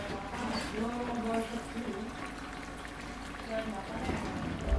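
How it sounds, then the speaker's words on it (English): Water runs over canned beans being rinsed for a turkey chili, a continuous close splashing and gurgling stream that holds steady for several seconds while a person talks over it. "I'm going to rinse that out. Rinse it out with water."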